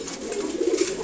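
Female pigeons coo close by in a low continuous warble, swelling slightly toward the end, with no talking.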